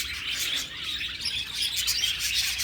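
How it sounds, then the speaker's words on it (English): Many birds chirp and tweet outdoors in a dense, continuous chorus of bright calls that stays fairly even throughout, with no talking. "Why aren't the birds afraid of you?"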